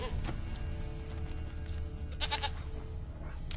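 A goat in The Witcher 3 video game bleats a few times against a steady game ambience of wind and low rumble, with no talk.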